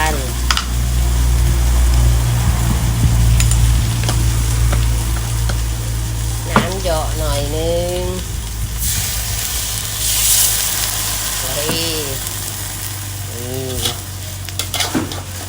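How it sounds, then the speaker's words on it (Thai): Eggs with sesbania flowers stir-fry in a pan, a loud sizzle under a low steady hum, with someone speaking and occasional clinks of the spatula. "ไข่ของเราผัดไข่ใส่ดอกสนูนะคะ"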